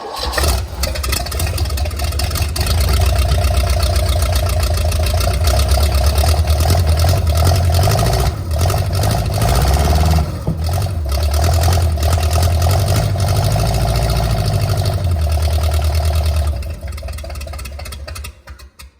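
A Mercruiser 454 marine engine on a bench stand fires up and runs continuously, a loud, steady, rumbling roar with slight surges in revs, then cuts off abruptly near the end.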